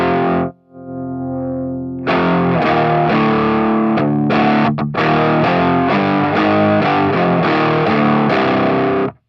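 Electric guitar plays through a Joyo distortion pedal in preamp mode with a low-gain setting: a held chord rings first, then a string of crunchy, driven chords and riffs, loud and close.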